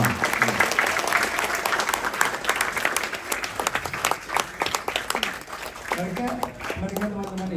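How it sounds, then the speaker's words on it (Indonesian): A crowd at a political event claps loudly and continuously, a thick wash of hand claps with voices calling out over it, and a speaking voice emerging near the end. "sekali lagi beri tepuk tangan buat mereka semua"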